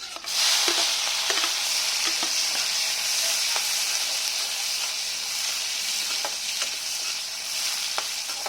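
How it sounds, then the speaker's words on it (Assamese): Diced tomatoes and green chilli frying in a pan for a Kolkata-style fish curry, a steady hiss with faint scattered clicks of stirring, fairly quiet and alone. "এইখিনি অকণমান ভাজি ল'ম"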